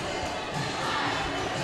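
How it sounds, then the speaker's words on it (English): Crowd at a women's college basketball game between Umpqua and Columbia Basin gives a rousing cheer as an alternate comes out of the locker room, a steady wash of distant, roomy cheering and shouting. "now we do have a alternate who comes out of the locker room and to a rousing cheer from the crowd"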